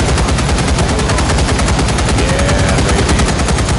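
Turret machine gun in the Contagion VR Outbreak game rattles off a dense, unbroken stream of rapid shots, loud and close, filling the whole stretch without pause.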